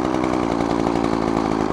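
A Craftsman string trimmer's small two-stroke engine runs at a high, steady, buzzing rev, close and loud throughout the short stretch.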